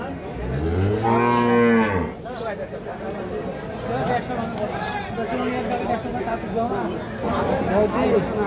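A Friesian cow lets out one loud, drawn-out moo close by at a cattle market, followed by a crowd of people talking and chattering around it.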